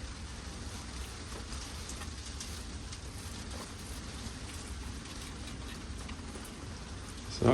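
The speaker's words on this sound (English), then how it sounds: "You hear that rain out there?" Rain falls steadily outside during rough weather, a continuous even hiss with scattered patter that stays level throughout and sits in the background with no talk.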